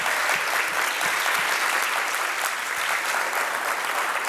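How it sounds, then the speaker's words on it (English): An audience at a food policy talk gives a speaker a hearty round of applause, many hands clapping loudly and continuously in a thick, even roar that lasts throughout. "And I would just like to have us give Ken another round of applause."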